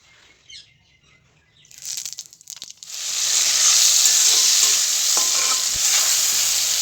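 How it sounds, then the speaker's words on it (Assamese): Chopped tomatoes tossed with five-spice into hot oil in a wok, a sudden loud sizzle erupting after some rustling and clatter, then a steady bright frying hiss that holds strong with faint stirring scrapes. "মই বিলাহীখিনি পাঁচফোৰণ দি পেলাই ভাজিম"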